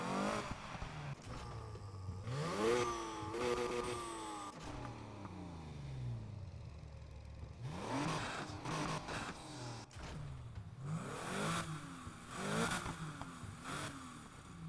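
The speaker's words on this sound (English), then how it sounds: "flat 6, that's a Porsche engine" A Porsche flat-six engine in a video game revs repeatedly in loud, rising surges with short pauses between bursts, moderately close, no voices.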